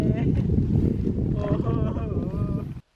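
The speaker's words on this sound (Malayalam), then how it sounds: "നമുക്ക് പോകാനുള്ള ബോട്ട് വന്നുകൊണ്ടിരിക്കുകയാണ്" A passenger boat drawing near on the Alappuzha backwaters gives a steady, close engine rumble with wind and water wash, voices murmuring over it, until the sound cuts off abruptly near the end.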